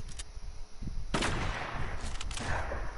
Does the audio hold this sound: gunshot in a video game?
yes